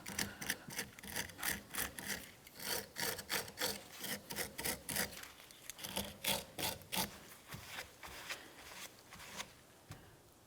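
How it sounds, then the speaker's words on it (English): A wire brush scrubs debris and corrosion off the rear wiper arm mounting area of a 1998-2002 Lincoln Navigator, rapid rhythmic back-and-forth rasping strokes, close and steady with no talk. "We'll just use a wire brush, remove any of the debris or corrosion that might be located along this area."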